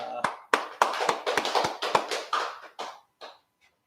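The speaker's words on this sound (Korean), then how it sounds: "하나님께 영광의 박수 올려드리고 마칩니다" A church congregation claps after a Wednesday worship service in roughly a dozen distinct, loud claps in an uneven rhythm that thin out and fade toward the end.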